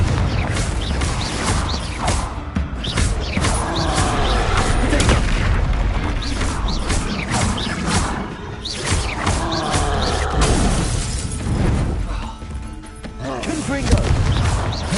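Confringo fire spells in Hogwarts Legacy set off a steady run of booming explosions and crackling blasts. The loud, dense combat noise continues with no letup, layered with mechanical clatter.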